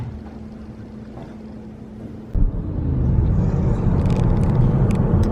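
A car accelerates onto an interstate highway, its engine and road noise swelling into a steady, loud rushing drone after an abrupt jolt midway through.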